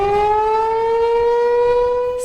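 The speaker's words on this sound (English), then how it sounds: "Sirens blaring." An outdoor civil defense warning siren in central Illinois blares loud and steady, a sustained rising wail from a distant tower that fills the whole stretch without a break.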